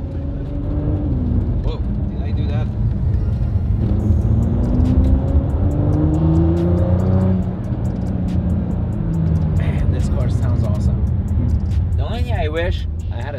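Ford GT V6 engine revving with rising and falling pitch sweeps as the tires are warmed up, heard loudly from inside the cabin over a steady low rumble, with a voice speaking over it.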